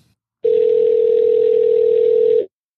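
A steady telephone dial tone, loud and unbroken for about two seconds, then cut off abruptly, with no talk over it.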